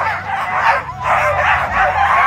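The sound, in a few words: excited sled dogs barking before a race start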